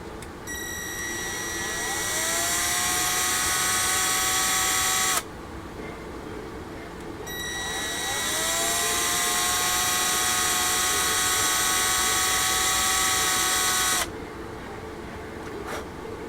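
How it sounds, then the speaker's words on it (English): A small rotary tool whines as it drills holes deeper into a model car magneto, two long high-pitched runs that spin up, hold steady, and cut off abruptly, with quiet pauses between. "let's get in there and drill some holes deeper."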